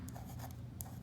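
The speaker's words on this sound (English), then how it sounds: "I'm going to write happy right here" Pen or pencil writing a word on paper, a soft close scratching that runs continuously for about a second with light stroke accents.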